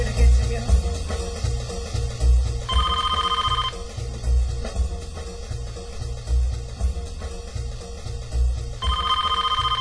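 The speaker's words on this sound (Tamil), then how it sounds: "ஃபோன் அடிக்கிற சத்தம் உனக்கு கேட்கலையா?" A telephone rings in a dubbed film scene, two bursts of a bright electronic trill separated by a pause, heard over a low rhythmic music bed with faint voices in the background.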